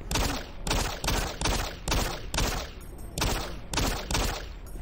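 A rhythmic string of loud, close gunshots from the video game Doom 3, roughly two per second, each a punchy blast with a short decaying tail, continuing steadily throughout.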